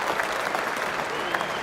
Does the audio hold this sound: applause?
yes